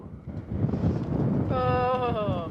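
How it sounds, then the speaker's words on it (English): Strong wind on a Namibian morning buffets the microphone with loud, continuous low rumbling and gusty roar. A voice rises over it near the end. "It is so windy this morning"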